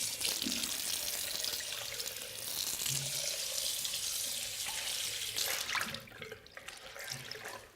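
Tap water runs steadily into a sink while a face is washed with a cloth, a continuous close splashing hiss that eases slightly near the end.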